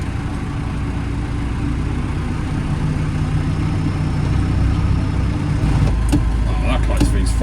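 A tractor engine idles close by with a steady low rumble, a person talking over it and a few clanks toward the end.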